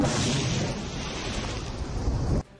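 A Russian mine-clearing rocket's explosive charge detonates at a steel plant, a loud sustained rumbling blast and roar that fills the whole span before cutting off abruptly near the end.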